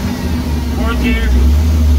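A five-speed manual forklift engine runs in fourth gear with a steady, loud low hum, and a short spoken phrase sits over the drone partway through.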